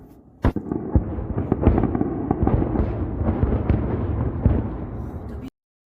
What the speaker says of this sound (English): Last night, Tehran was hit by IAF airstrikes.